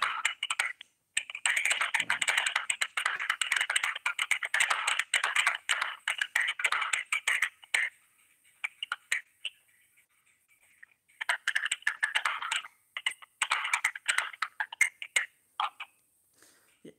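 Rapid computer keyboard typing heard through a phone line, dense bursts of thin, compressed clicks with gaps of near silence between runs.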